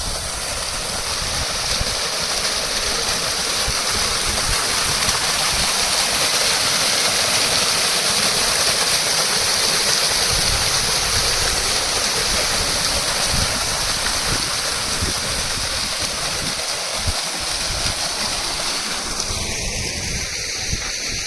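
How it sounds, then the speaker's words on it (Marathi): A steady rush of flowing water from a mountain spring fills the whole clip, broad and continuous, in a hilly village in Konkan, with no talking. "पाण्याचं झरा मस्तपैकी आहे"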